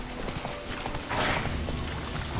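Roach the horse in The Witcher 3 trots along a road, hooves clip-clopping in a quick steady rhythm close by, with a short breathy swell midway that could be a snort.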